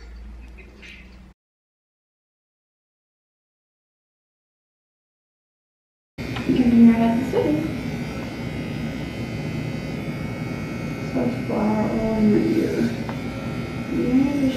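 Electric hair clippers buzz steadily close by after a brief moment of silence, with voices talking over the drone.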